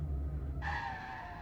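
A car brakes hard in the driving game Backseat Drivers. A low engine rumble gives way to a sudden, sustained, loud tyre screech that carries through to the end.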